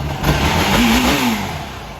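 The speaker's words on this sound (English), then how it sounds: "Engine response is quick, it's steady." A bone-stock machine engine fitted with a Vortex revs cleanly without bogging, a close, loud, steady rise and hold of engine tone over about two seconds.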